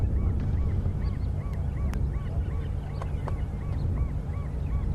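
A family of geese honks at Arathusa Dam, giving repeated, evenly spaced honks at moderate distance over a steady rumble of wind and background noise, with a few sharp clicks.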